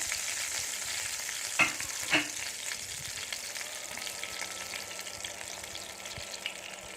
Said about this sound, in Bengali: তো আরও কিছুটা পরিমাণে তেল আমি এখানে অ্যাড করে দেবো।